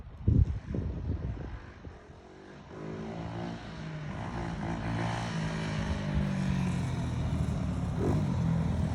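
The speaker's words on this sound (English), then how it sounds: "The bike is up and running again" A 125cc dirt bike engine runs steadily, a continuous buzzing drone that builds in level after a short dip, heard alone and fairly close.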